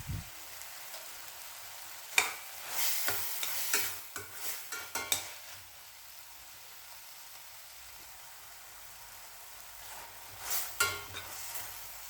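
Tomatoes being stirred and sautéed in a pan for a tomato gravy, with a soft steady sizzle and a few clusters of scraping spoon strokes near the start and again near the end, no talking.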